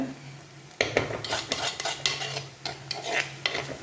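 A spoon stirs a bitter gourd and leaf thoran in a pan, scraping and clinking against the metal in irregular strokes over a faint, steady sizzle, with no talking.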